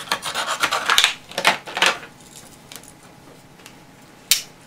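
A dull knife blade on a 14-function multitool saws at something in a quick series of rasping strokes, close up, then tails off to quiet before one last short scrape.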